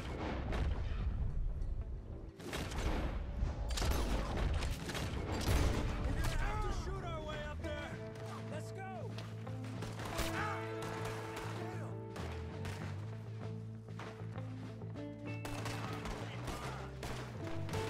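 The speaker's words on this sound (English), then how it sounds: "He'll shoot the guy on the left and then he'll shoot the guy on the right." Gunfire in Red Dead Redemption 2, booming shots landing in rapid bursts over game music, loud and sustained through the passage, with a voice talking over it.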